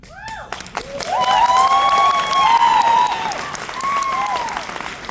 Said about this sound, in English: that applause from everyone in our organization down at the tables